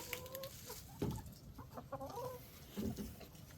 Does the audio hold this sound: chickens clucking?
yes